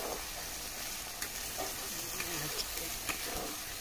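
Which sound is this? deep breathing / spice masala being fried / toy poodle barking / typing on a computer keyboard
spice masala being fried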